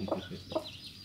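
Chicken on a rural family farm giving two short clucks close by, faint and brief with no talking.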